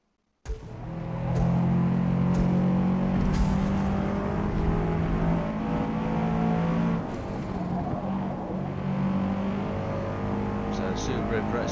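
Subaru Impreza WRX engine in Forza Motorsport, a steady, loud drone with rising and shifting harmonic tones as the car accelerates on track, running continuously for most of the stretch, with a brief change in pitch partway through.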